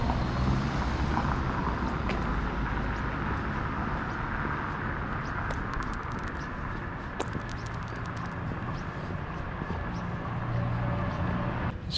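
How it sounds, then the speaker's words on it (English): Cars drive past on a street in Protaras, Cyprus, making a continuous, fairly close traffic roar with passing vehicles blending into one steady wash of engine and tyre noise. "It's quite a few cars going past."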